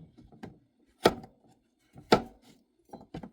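Knife slicing chili on a cutting board: two sharp, loud strikes with lighter taps between them, then a few quicker knocks near the end.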